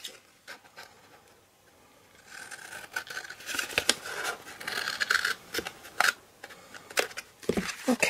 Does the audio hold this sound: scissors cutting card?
yes